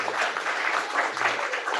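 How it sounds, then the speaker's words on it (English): Subdued audience clapping after a talk, a soft, steady patter of hands lasting under two seconds with no voices over it. "It's a subdued clap. Yeah, we could do a clap now if you want."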